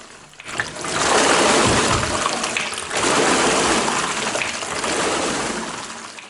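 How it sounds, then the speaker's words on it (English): Water sloshes inside a water-resistance rowing machine (Skandika Nemo Aqua Rower) in rhythmic surges, swelling and receding roughly every couple of seconds in two or three strokes, close by with no voices. "you get the nice water sounds whenever you're rowing"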